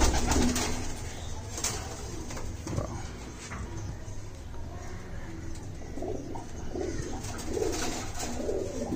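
Kasoori pigeons with red eyes and golden plumage coo softly in a pen, their low, repeated calls sitting in steady background noise, with faint talk.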